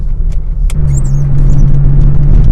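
A Fiat Cinquecento 900 hot hatch drones loud and close from inside the car, its small engine and exhaust giving a steady low rumble under a brief knock.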